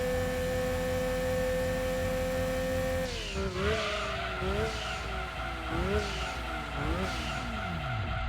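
Nissan Skyline GT-R V-Spec (R32, four-wheel drive, 295 hp) braking hard in Gran Turismo 2: a steady engine drone cuts out, then repeated squealing tire skids rise and fall four times as the car slows.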